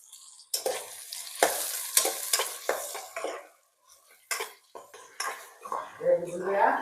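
Shark masala with tomato stirred in a pan, black pepper and turmeric mixed in, with repeated close scraping and clinking of a utensil against the pan over a soft sizzle, in uneven bursts with brief pauses.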